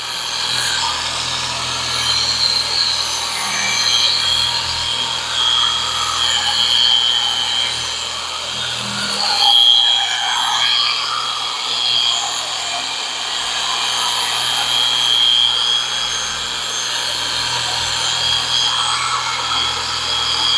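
Power buffer polishing the paint of a 1975 Hemi Plymouth Duster, a steady close motor whir with a rhythmic swell as the pad moves across the body.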